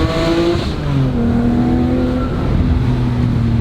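A modded BMW 328i with an Autowerks muffler exhaust revs loudly and close by, the engine note climbing and holding steady over the few seconds with no one talking.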